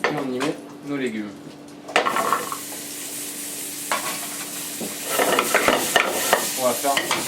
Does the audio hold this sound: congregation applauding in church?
no